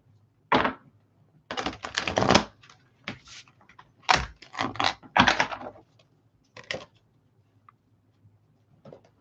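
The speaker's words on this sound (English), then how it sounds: "Let me shuffle 2 more times" Tarot cards are shuffled by hand in several quick bursts of riffling and flicking, close and crisp, separated by short quiet gaps, with no talking.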